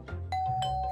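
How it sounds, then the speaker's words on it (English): A two-tone electronic doorbell chime in a children's cartoon rings out clearly, two bright notes in quick succession with a sustained ring, close and loud. "That's the doorbell."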